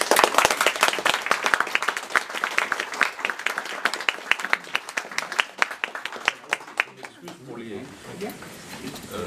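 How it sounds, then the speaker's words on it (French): An audience applauding steadily at the end of a mathematics lecture, dense clapping that gradually thins out and fades, with a few murmuring voices emerging at the end. "Alors, peut-être on va applaudir."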